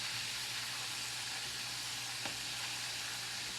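Fried chicken pieces sizzle steadily in a pan of hot oil just after being turned golden brown side up, a constant broadband frying hiss with a low hum beneath and no talk.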